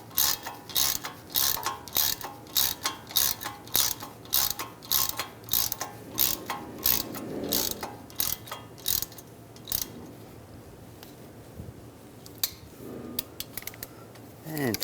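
A hand ratchet tightens a bolt on the front right CV axle of a 2013-2016 Dodge Dart 2.4L, giving quick, close, rhythmic clicking strokes that slow and fade to faint, sparse clicks.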